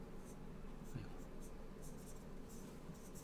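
Chalk pressed lightly against a blackboard during a lecture, a soft continuous scratching of writing strokes, faint and steady with no pauses.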